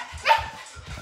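A child imitates a dog barking during a kids' fitness class, giving a few quick, close woofs and yips in a short burst.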